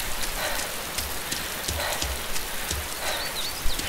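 Steady rain pours down in the survival video game DayZ, a continuous hiss of drops with soft patters throughout, fairly loud and even, with no voices over it.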